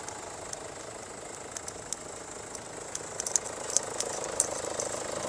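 A 2.2-litre diesel engine in a 2020 Kia Sorento idles steadily, a low, even rumble with faint clicking ticks that grow slightly more frequent toward the end.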